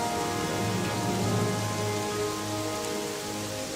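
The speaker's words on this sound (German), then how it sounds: "aber es regnet schön" Steady rain in the video game Gothic 3 patters in a constant hiss beneath a low, sustained musical drone, even and unbroken throughout.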